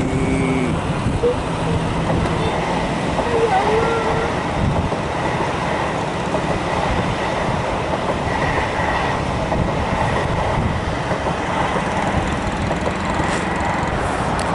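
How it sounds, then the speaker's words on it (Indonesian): A KCJB high-speed EMU train rolls toward the depot at Tegalluar station, a steady, loud rumble of wheels and carriages with faint clicking on the rails throughout, and no talking. "Ya, EMU langsung ke depo."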